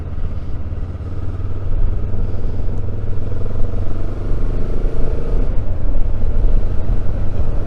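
A Benelli TRK 702 motorcycle on the move on greasy roads, its engine and exhaust giving a steady, close, low rumble throughout with a faint pulsing beat and some clatter, no voices.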